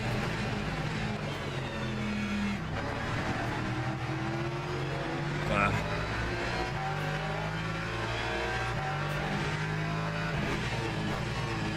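Race car engines roar in the Le Mans Ultimate racing game at a Qatar event, several cars droning and revving together as a dense, constant rising and falling engine noise.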